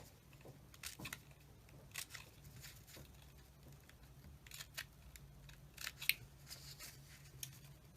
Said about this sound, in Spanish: Y lo voy a doblar y lo voy a cortar.